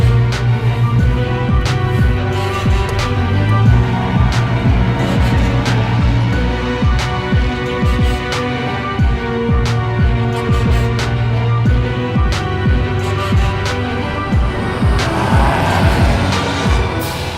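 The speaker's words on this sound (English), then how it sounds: "give it a few gas and then press the starter button and you're off" A carbureted 1968 Jaguar 420G is started with its starter button, then runs at a steady, close-up idle rumble with faint clicks and ticks throughout.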